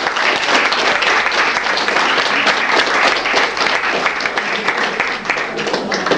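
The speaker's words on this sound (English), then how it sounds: "So, big round of applause for Dave McInty!" An audience at a convention opening ceremony breaks into loud, sustained applause, dense clapping filling the room steadily from start to finish.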